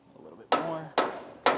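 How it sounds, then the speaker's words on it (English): A hammer taps a metal dust cap onto a 3,500-lb trailer axle hub: three sharp, ringing strikes about half a second apart, each decaying into a brief metallic ring. "you could just tap it with your hammer and just spin the hub while you're doing it"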